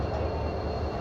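Ahmedabad metro and passenger trains running at Gandhigram station produce a steady, close, broadband rumble of rolling rail traffic that holds without a break.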